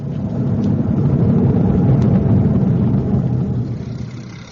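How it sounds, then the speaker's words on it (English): An old van's engine runs as a radio comedy sound effect, a steady low rumble that holds at an even level throughout with no voices over it. "Jonesy, can't you get this old van of yours to go any faster"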